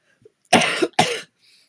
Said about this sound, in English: I feel coughing fits coming on, so I'm going to pull it